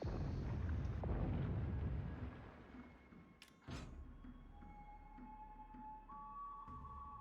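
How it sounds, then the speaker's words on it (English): A submarine blows up in a naval video game, a deep rumbling blast fading over several seconds, followed by a sharp thud and sustained tonal hum from the game audio. "Enemy submarine destroyed."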